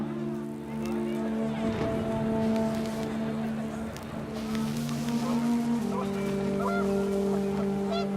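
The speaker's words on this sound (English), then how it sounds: "The wind picked up and panicked geese appeared and quickly went." Panicked geese honking in the video game What Remains of Edith Finch, a flurry of overlapping honks over a steady windy, droning background with no one speaking.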